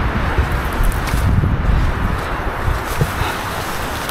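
Strong storm wind roars across a mountain slope on Gunung Wilis, a loud continuous buffeting rush with gusting swells and microphone wind noise throughout, no voices present.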